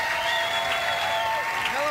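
A crowd applauds Dick Sargent and Elizabeth Montgomery, grand marshals at a 1992 event, with steady clapping throughout and voices audible over it.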